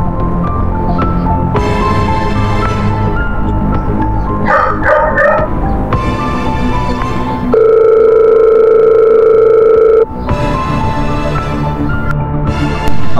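A telephone rings, a steady electronic tone holding for a few seconds between louder surrounding sound, while a call is placed to a client during a drama scene.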